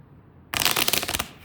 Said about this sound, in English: Just doing a real quick shuffle here.